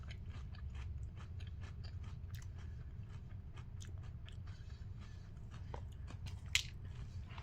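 Close crunching and chewing of Cinnamon Pebbles cereal, a steady run of small crisp bites and mouth sounds lasting throughout, with no talking.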